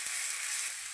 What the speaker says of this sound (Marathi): त्यात लाल तिखट, हळद, गरम मसाला हे छान असं परतून घेऊया 2 मिनिट.